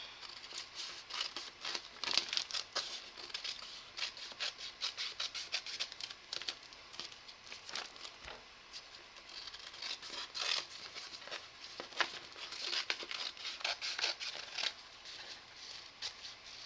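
Scissors cut around a paper tracing sheet, close and fairly quiet, with irregular snips and paper rustling continuing throughout and no speech.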